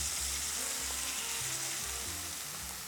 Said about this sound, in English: you start by rendering it gently in a pan